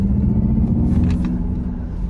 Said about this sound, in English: Give it a little acceleration boost here.